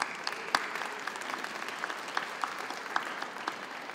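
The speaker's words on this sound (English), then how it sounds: "Give yourselves a round of applause." A festival audience in a city hall courtyard claps steadily, softly and from some distance, with scattered sharper claps standing out.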